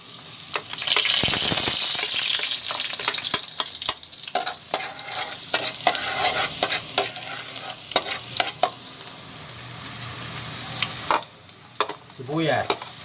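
Garlic frying in two to three tablespoons of oil for seafood kare-kare Kapampangan, a loud bright sizzle rising as it hits the pan, then continuous frying under repeated spatula scrapes and taps, close up with no voices.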